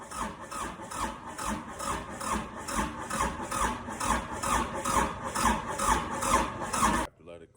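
Kubota tractor engine cranking and trying to start, a rhythmic, repeating churning whir from the starter at a steady pulse for about seven seconds before stopping abruptly, with a voice speaking over it.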